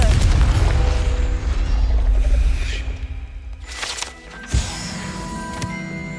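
Confringo fire spell in the video game Hogwarts Legacy, a dense roaring rumble that fades and then gives way to a sudden sharp blast with ringing tones, loud and close, with no talking.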